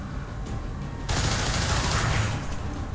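A gunshot in the XCOM strategy video game: steady low background noise, then one sudden loud shot breaking in and ringing on as a sustained rumbling roar, with no talking.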